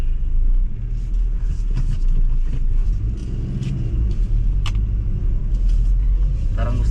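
A Toyota Corolla with a 2E engine, overhauled a year earlier, idles close by with a deep steady rumble and some faint ticking, with no one speaking.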